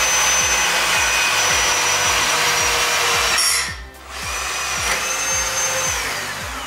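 A power drill bores a hole in a shop with a loud, steady whine over rapid rhythmic ticking, dips briefly to near stillness partway through, then revs back up and keeps running.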